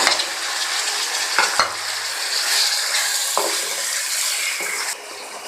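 Tomatoes fry in a pan with garlic ginger paste and green chillies for a taro fry masala, giving a steady loud sizzle with a few scraping stirs. No one speaks.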